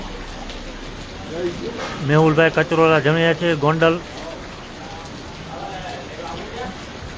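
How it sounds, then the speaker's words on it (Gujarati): Light unseasonal rain in the rural Halvad area, a steady soft hiss that continues under a stretch of someone talking. "હાલ અત્યારે થોડોક વરસાદ પણ ધીમો થયો છે"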